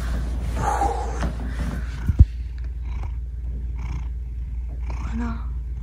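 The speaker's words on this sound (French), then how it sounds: "Tu ronronnes?" Low, steady rumbling purr from a house cat, close and continuous, with a person talking softly over it and a brief click partway through.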